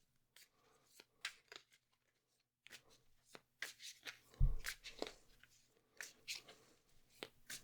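A Light Seer Tarot deck is handled quietly, making scattered soft snaps, flicks and rustles of cards that come in irregular bursts with short silences between.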